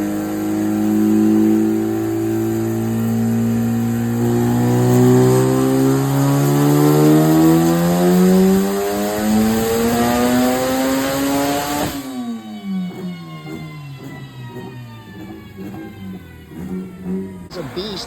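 A turbocharged Honda Civic FK8 with a hood exit exhaust pulls hard at full boost, about 34 psi, on a dyno, its loud rising engine tone climbing steadily before it cuts off and the whine winds down.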